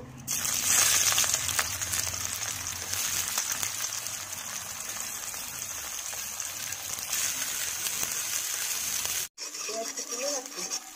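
Chopped onions frying in a pan, a steady dense hiss that runs loud and continuous for about nine seconds before cutting off, followed by a quieter stretch with faint clatter.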